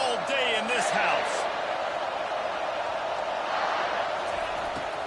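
Steady, dense stadium crowd roar in a college football video game, loud and continuous throughout, with a brief whistle-like tonal sweep near the start and commentary voices mixed in.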